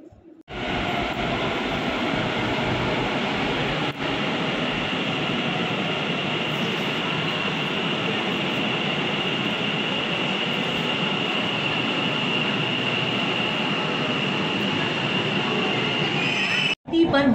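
Kolkata East West Metro train at Howrah Maidan station, a loud, continuous rumble of the carriages running steadily for the whole stretch, close and unbroken, with a brief knock near the start and a sharp change at the very end.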